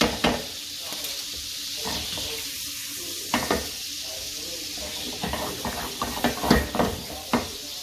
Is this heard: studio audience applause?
no